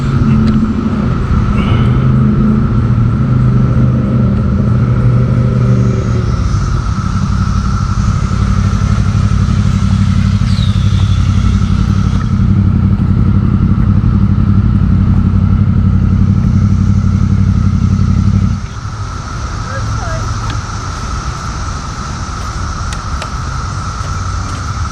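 A Yamaha R1 sport bike engine drones steadily and fairly close, its low hum shifting pitch partway through before settling into a lower, quieter tone near the end.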